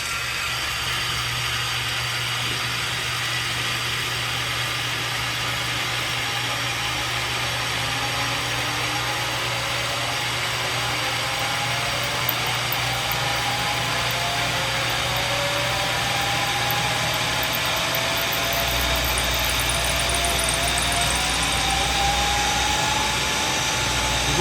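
A 4.75-stroke billet BBF crankshaft spins on a balancing machine, a constant loud mechanical drone with a low hum and a slowly rising whine that holds steady throughout without pause.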